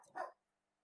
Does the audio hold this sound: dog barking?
yes